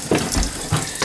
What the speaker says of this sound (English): The water will not stop.